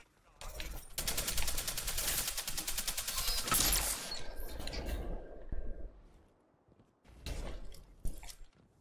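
Heavy weapon in Destiny 2 firing a long rapid burst of automatic gunfire, loud and rattling for several seconds, then a pause before a shorter second burst, with game sound effects in between.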